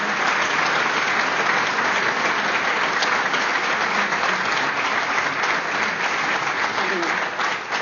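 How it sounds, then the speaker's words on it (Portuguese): An audience at a sports club day event gives a round of applause to welcome a multi-champion boccia athlete, a loud, sustained, dense clapping that fills the whole stretch, with voices faintly mixed in. "Uma salva de palmas."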